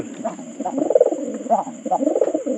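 A caged pigeon coos close by in soft, throaty, repeated bursts that follow one another in an uneven rhythm.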